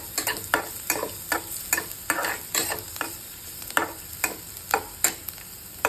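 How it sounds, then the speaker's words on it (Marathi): Onion sautéing in a little oil with cumin, mustard seeds, curry leaves, garlic and green chilli, giving a steady close sizzle broken by repeated stirring scrapes at a fairly regular rhythm, no voices. "थोडासा ब्राऊन कलर येईपर्यंत कांद्याचा आपण परतून घेणार आहोत."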